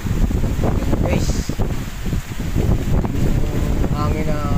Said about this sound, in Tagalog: yung lakas ng hangin na bumubugso